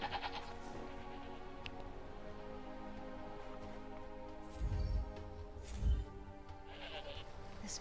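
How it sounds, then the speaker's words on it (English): Several sheep bleat in the Forspoken video game, their calls repeating over a steady musical and ambient game background. Two louder, closer bleats stand out near the end. "So let's find all these little sheep and feed them"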